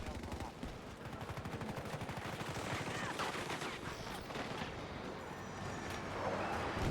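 Rapid gunfire in Battlefield 4 multiplayer, a dense continuous stream of automatic shots with scattered heavier bursts, loud and close, running the whole stretch with no voices over it.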